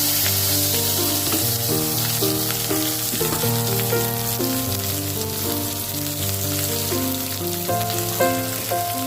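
Potatoes and onions fry in a pan with a steady, loud sizzle that fills the whole stretch, overlaid by a melodic tone but no talking.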